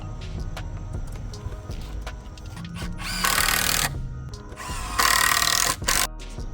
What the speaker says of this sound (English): screwing the top boards to the side rail supports